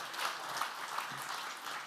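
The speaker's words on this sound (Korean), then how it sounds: "할렐루야로 하나님께 영광 돌리며 박수로 환영하겠습니다" A church congregation claps to welcome a pastor, a soft, even wash of applause that continues steadily, somewhat distant and without any voices.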